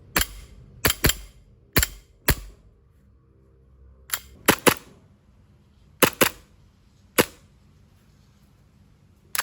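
A SIG P320 airsoft pistol with a plastic slide fires a string of about a dozen sharp, close, loud snapping shots in irregular pairs and singles, with short quiet gaps between them.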